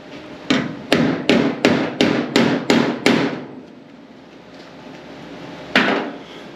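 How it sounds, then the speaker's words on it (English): A small contouring hammer shapes a metal transition panel for the front bumper of a 1949 GMC roadster, striking eight sharp metallic blows in a quick, even rhythm, then one more after a pause, close and loud. "Find my little contoury hammer."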